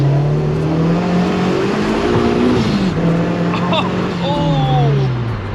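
Supercharged Honda Civic Si running on E85 accelerates hard, the engine note climbing steadily through the gears with a loud supercharger whine, heard close from inside the cabin.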